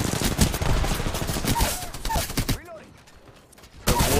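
Rapid bursts of automatic gunfire and firefight effects from the battle royale video game Apex Legends crackle loudly for a few seconds, then drop off into a quieter lull before a final sharp burst returns.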